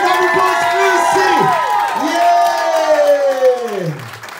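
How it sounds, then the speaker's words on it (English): A studio audience at a results show whoops and cheers loudly, with excited rising and falling shouts layered over a crowd roar. "Round of applause"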